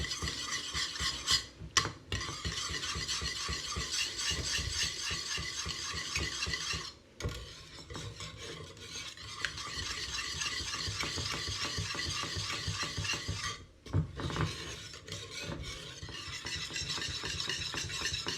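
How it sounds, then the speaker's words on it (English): Butter being whisked into hot pastry cream, a steady scraping, rattling whisk against the pot that runs continuously at close range with two brief pauses, no voices. "I'm going to whisk this in until smooth"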